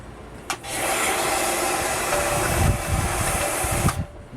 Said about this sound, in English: What I'm going to do is sand one side of it flat on a slanted angle.